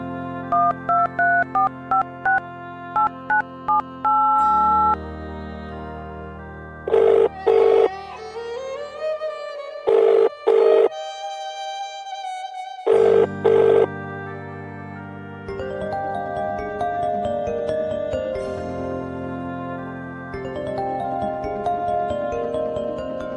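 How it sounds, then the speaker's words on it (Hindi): A telephone rings in a household drama scene, repeated electronic ringtone bursts in an on-off pattern over a musical background score, loud and close, with no talk during the ringing. "हाँ ये फोन उसी का आ रहा है।"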